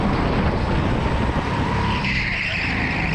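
Go-kart braking hard at speed on a racing circuit, tires skidding with a loud continuous scrubbing roar and engine noise throughout, close and steady.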